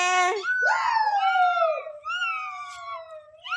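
A child imitates a cat's meow with a drawn-out, wavering high cry, then a second softer meow, close and alone.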